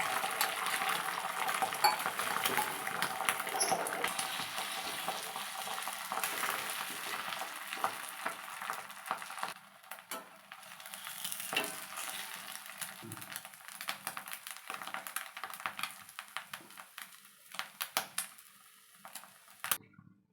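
Eggs frying as a plain omelette in hot oil in a pan, a steady soft sizzle with occasional utensil clinks and scraping against the pan throughout, no talking.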